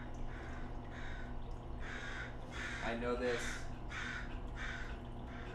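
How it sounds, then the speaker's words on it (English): Crows caw repeatedly outdoors in a steady series of harsh calls spaced about half a second apart, heard at moderate distance beneath a voice speaking briefly. "The crows know this."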